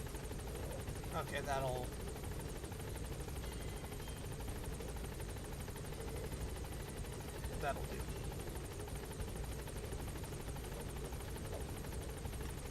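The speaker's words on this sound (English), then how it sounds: "We'll hop into the chopper so we're not hearing this going non-stop." Steady helicopter rotor drone from a hovering chopper in Metal Gear Solid V, a constant loud whir filling the whole clip while a voice briefly speaks over it.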